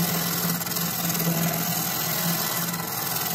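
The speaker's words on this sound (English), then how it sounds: "I failed to mention this is a skew chisel that I'm using right here." A wood lathe turns while a skew chisel takes peel cuts, producing a continuous, fairly quiet broadband hiss over a low steady motor hum, with no talking.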